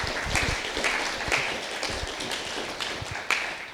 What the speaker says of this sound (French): On peut peut-être les applaudir pour leur participation.